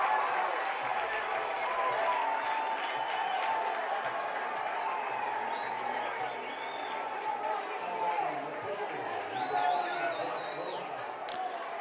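A red-clad crowd at a high school baseball game cheers and applauds in a steady, fairly loud wash of noise lasting several seconds, with a commentator talking over it.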